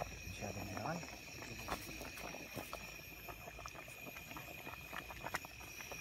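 Wild ampalaya (bitter gourd) boiling in a pot, faint continuous bubbling and popping, with a voice speaking briefly near the start.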